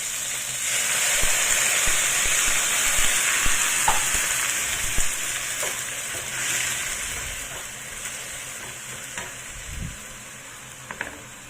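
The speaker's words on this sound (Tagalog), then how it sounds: "At maglalagay na rin tayo ng water." Water hits a hot pan while cooking sayote (chayote) for a Filipino dish, giving a loud, steady hiss and sizzle with occasional stirring clinks throughout.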